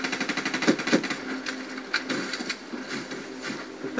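Pistol fire in the Call of Duty: Black Ops 3 Zombies Nuketown map: a series of sharp, close synthetic shots spaced irregularly over a few seconds, mixed with game effects and clicks.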